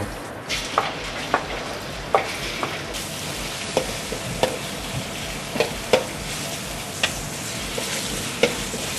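Oil sizzling steadily in a pan as chicken is stir-fried, a utensil stirring and scraping with sharp irregular clacks over the hiss; no talking.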